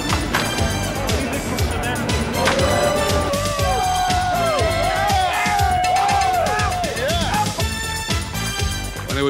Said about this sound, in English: The crowd was loud.